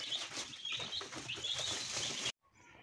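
Young village chicks chirping in high, thin peeps with some rustling and soft clucking, fairly quiet and close, cutting off abruptly near the end.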